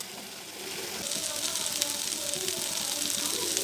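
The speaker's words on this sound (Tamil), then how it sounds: "அதுக்கு உள்ளே வைக்கிற அந்த மசாலா கேரட்டு, பீன்ஸு, உருளைக்கிழங்கு இதெல்லாம் போட்டு இப்போ வதக்கிட்டு இருக்கேன்." Carrots, beans and potatoes sautéing in a pan give a steady, moderately loud sizzle that grows denser after the first half second, with faint talk underneath.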